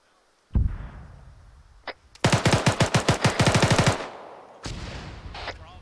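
Machine gun fire in the military shooter ArmA 3 during an attack on a vehicle: a loud, rapid burst of about a dozen close shots, bracketed by a few separate single gunshots.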